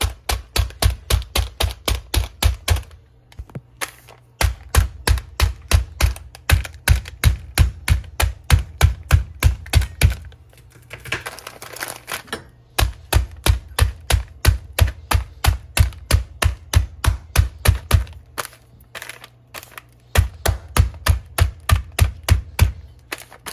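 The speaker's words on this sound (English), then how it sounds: "we're going to crush our crispy fried onions. So we're just going to smash them until they're kind of like a breadcrumb consistency" Crispy fried onions crushed down to breadcrumb texture, making loud, rapid, steady pounding thuds in long runs broken by short pauses, close up and with no voices.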